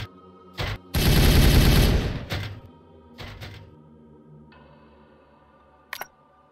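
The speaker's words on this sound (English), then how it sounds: "Firing on target!" Video game gunfire from Warhammer 40K Regicide: a sustained, loud burst of rapid automatic fire, followed by a few shorter volleys and a final sharp shot, with no talking.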